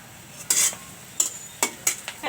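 Cinnamon sticks and bay leaves dropped into hot mustard oil while cooking taro greens with lentils, heard as several short bright sizzling bursts with scraping stirs in between, close and moderately loud.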